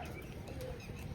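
Pigeons set out in the sun give soft, faint cooing in a brief burst behind a noisy outdoor hiss.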